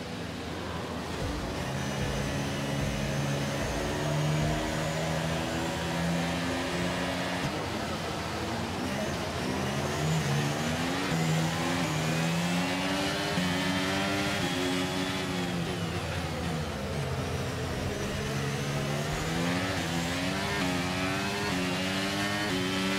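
Race car engines in the F1 23 video game roar at the race start, a dense layered drone of many cars revving and accelerating together, loud and continuous throughout, with pitch rising and dipping as gears change.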